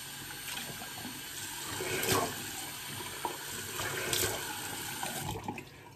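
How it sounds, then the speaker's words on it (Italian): Cold water runs from a tap into a sink at a shaving station, a soft steady close stream with occasional splashes and gurgles as hands move through it, with no talking. "acquata, acqua fredda."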